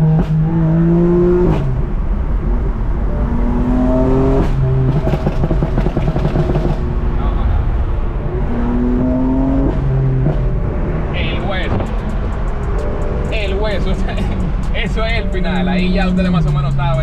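A 600 hp BMW M4 engine revs repeatedly, climbing in pitch and dropping back through several loud pulls, with someone talking over it.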